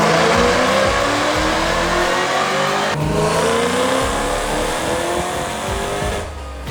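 A supercharged 2017 Toyota Tundra with a 5.7L V8 revving hard on a dyno, a loud sustained engine roar climbing through gears with brief shift dips, then easing off at the end.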